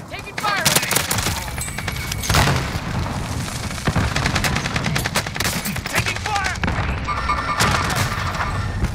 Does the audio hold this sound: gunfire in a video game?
yes